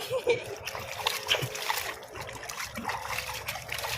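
Water trickles and splashes close by as razor clams are rinsed and swished around, with a voice talking over it.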